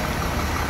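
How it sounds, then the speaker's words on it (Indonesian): A Scania K410 bus engine idles in a brief, steady, loud rumbling hum with no voices over it. "mesinnya ting ting ting ting ting, enak sekali, halus ya"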